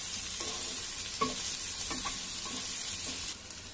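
Fried rice with chicken and egg being stir-fried in a pan, with soft sizzling under a series of scraping, clinking stirs, about six strokes spaced irregularly, close and quiet, with no voices.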